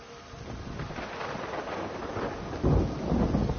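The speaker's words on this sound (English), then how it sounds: "And it's raining again." Rain and thunder in the video game Everybody's Gone to the Rapture: a dense hiss of steady rainfall with low rolling thunder that swells louder toward the end.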